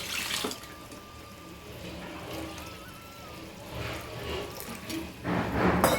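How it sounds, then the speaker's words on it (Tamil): Water pours and trickles steadily into a pot of Kancheepuram garlic kuzhambu, with a louder splash near the end; no one speaks. "இன்னும் கொஞ்சம் தண்ணி விட்டுக்கலாம்"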